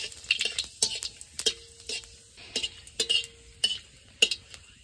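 Cardamom, bay leaf, dried chili and cumin go into hot oil, producing brief sizzling bursts and the clink of a spoon stirring in a pan, in an uneven rhythm of sharp, close taps.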